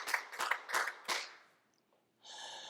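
Several sharp hand claps from a church congregation in a rough rhythm, fading out, followed by a brief soft hiss or murmur.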